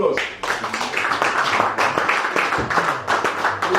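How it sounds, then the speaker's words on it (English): A round of applause breaks out at an investiture ceremony, many hands clapping in a dense, lively patter that runs steadily for several seconds, with a brief dip near the middle. "Oh, round of applause."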